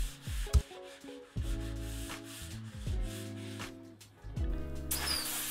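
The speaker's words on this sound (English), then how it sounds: "then I came back and gave it a light sanding." Sandpaper rubs lightly over a reclaimed wooden beam coated with polyurethane, a series of close scratchy strokes with brief pauses between them.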